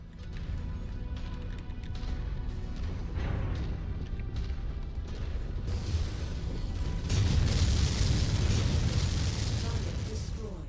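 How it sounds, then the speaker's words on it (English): Missile volleys strike and destroy a target in the MechWarrior 5 video game, producing a dense, continuous roar of booms and rumbling blasts that swells louder and heavier toward the end. "You love to see just a huge volley of missiles."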